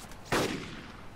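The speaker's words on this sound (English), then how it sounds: "That's me shooting." A single loud gunshot from the player's own weapon in the military video game ARMA 2, a sharp broadband crack with a short decaying tail over quiet background.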